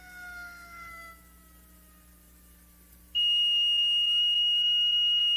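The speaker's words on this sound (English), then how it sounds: "That's the smoke detector." A smoke detector alarm blares a piercing, steady high-pitched tone that starts abruptly partway through and holds loud. Fainter wavering siren-like tones come before it.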